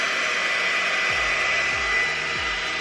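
A GHD Duet hot air styler blows a steady, loud airflow while drying fine, medium-length hair, its continuous whoosh constant throughout with a few low thumps beneath.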